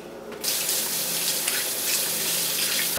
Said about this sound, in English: So, Sana, if you want to wash your hands and dig in here, you're more than welcome to